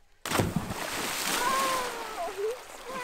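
A sudden loud splash erupts as someone jumps into lake water beside a canoe, followed by churning and sloshing water that fades over a few seconds, with faint whoops in the background.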